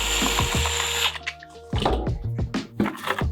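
Screwdriver work on the foot pad screws of a Onewheel GT electric skateboard, a run of short ratcheting clicks and scraping turns close by, broken by brief pauses.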